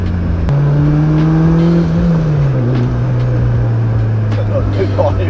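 A Mitsubishi Evo 9 tuned to 815 hp accelerating hard in one gear: a loud, close engine note climbs steadily, dips briefly, then holds a high drone, with traffic noise around.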